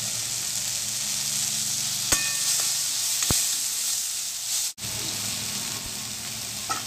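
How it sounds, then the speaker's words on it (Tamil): Frying in a pan under steady sizzling while spices and salt are stirred in for an egg noodle soup, with a few sharp clicks of a spoon against the pan. "தேவையான அளவுக்கு உப்பு சேர்த்துக்கிட்டு நல்லா கிண்டிக்கோங்க"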